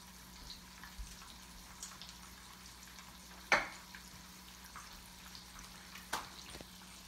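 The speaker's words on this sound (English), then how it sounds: "we got some sizzle going" A pan of red beans with whole catfish sizzles quietly in the background, a low steady frying hiss broken by a couple of sharp clinks from a utensil.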